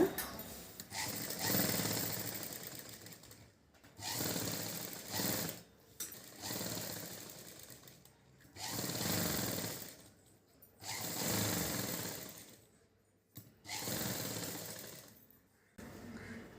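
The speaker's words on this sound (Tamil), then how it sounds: "சரியாக வெட்டியிருக்கோம் அதனால் அப்படியே வச்சு சுற்றி தைச்சிடலாம் முதல் கழுத்தை தைச்சிருங்க" An electric sewing machine stitches around the neckline of a child's silk pattu pavadai skirt, running in repeated bursts of rapid rattling of a second or two each, separated by short pauses.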